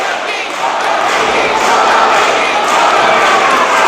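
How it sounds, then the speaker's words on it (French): A loud crowd roars steadily at a JCW wrestling event in Baie-Saint-Paul, a dense, unbroken wash of cheering and shouting that fills the space at close, constant volume. "La foule est tellement bruyante"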